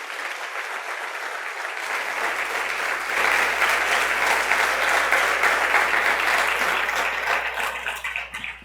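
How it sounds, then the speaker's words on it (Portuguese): A church congregation applauding at a morning worship service, a dense, sustained burst of clapping that swells and holds loudly for several seconds before easing toward the end, with a low steady hum underneath. "Você pode aplaudir e glorificar o nome dEle?"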